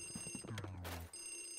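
A telephone rings in the video game Luigi's Mansion: a bright, electronic two-tone ring repeats quickly and loudly for about a second, then cuts off, leaving a steady high whine.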